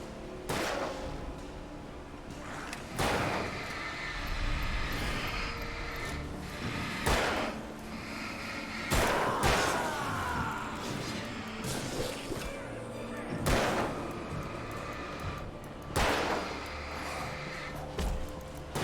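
Gunshots in the game Alan Wake, nightmare mode, a series of loud, sharp separate blasts spaced a few seconds apart over a low ambient rumble, with occasional faint talk.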